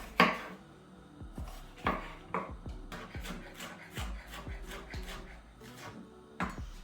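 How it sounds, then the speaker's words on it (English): Repeated knife strokes slicing a pepper on a cutting board, about a dozen sharp taps at an uneven pace, close by. "you can start slicing your pepper"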